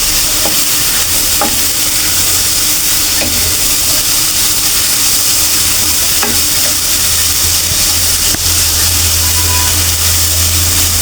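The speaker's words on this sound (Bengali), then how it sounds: "আমি একটু হালকা নেড়ে চেড়ে গাজর হলুদ করে নেব" Carrots for halwa stirred and fried in a pan, a loud steady sizzle with repeated light scrapes and taps of the spoon at an uneven pace, no talking.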